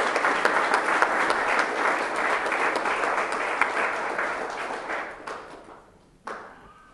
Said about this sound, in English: let's have a big round of applause for all of our candidates for the 1st and 5th districts